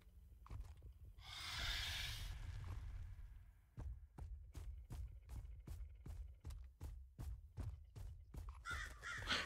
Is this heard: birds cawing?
yes